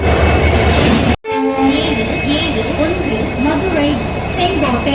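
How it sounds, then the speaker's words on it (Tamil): Madurai–Sengottai train 56719 waits at platform 2 of Madurai railway station amid loud rail rumble, a brief cut, then sustained horn-like tones and station bustle, with people talking throughout. "ட்ரெயின் நம்பர் 56719 மதுரை செங்கோட்டை வண்டி 7:25க்கு பிளாட்ஃபார்ம் நம்பர் 2லேருந்து டிபார்ட் ஆக போகுதுங்க."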